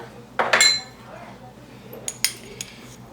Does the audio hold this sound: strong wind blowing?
no